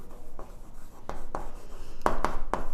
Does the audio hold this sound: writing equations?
yes